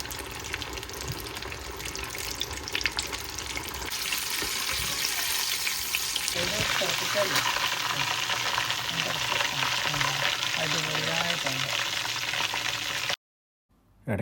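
KFC-style chicken pieces deep frying in hot oil, a close, dense bubbling sizzle that swells louder and fuller partway through as more pieces go in, with stirring, before cutting off abruptly near the end.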